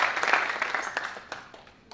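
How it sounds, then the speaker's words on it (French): Audience applause at a presentation on rail transport of agricultural products in the DRC, a dense patter of clapping that gradually tapers off over about two seconds, no voices. "Est-ce qu'il faut applaudir pour un président?"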